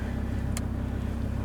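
A manual vehicle towing a caravan starts rolling forward on an outback trip, heard as a steady, close, low engine and road rumble, with a single brief click partway through.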